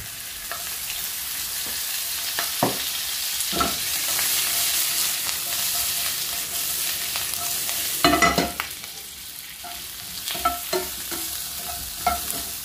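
Vegetables for a vegetable couscous fry in oil in a pan, giving a steady close sizzle throughout with occasional stirring scrapes and clinks, a brief busier burst of stirring near the middle.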